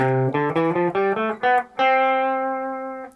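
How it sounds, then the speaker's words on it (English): A major scale of plucked notes climbs quickly step by step, ending on a held note that rings and slowly fades. "the bright and happy sound of major"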